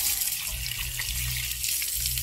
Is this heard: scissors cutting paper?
no